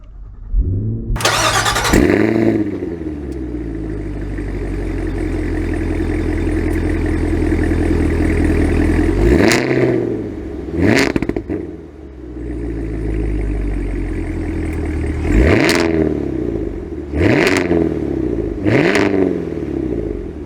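A Cadillac Escalade V with its roughly 700-horsepower engine cranks and catches with a sharp starter burst, settles into a deep steady idle, then blips through several loud throttle revs that rise and fall, close and with no talking.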